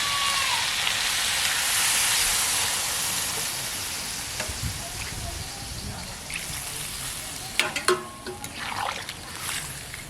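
Water poured into village-style red country chicken curry in a pan, a loud steady sizzle and bubbling hiss that gradually eases, with clattering stirring and handling noises toward the end.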